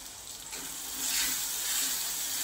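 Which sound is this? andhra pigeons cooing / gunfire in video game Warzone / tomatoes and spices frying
tomatoes and spices frying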